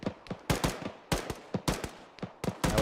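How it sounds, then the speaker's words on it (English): Weapon firing during a field training exercise: a series of sharp, fairly faint gunshot cracks in irregular clusters of two or three, with no talking. "I'll shoot some rounds at Ray."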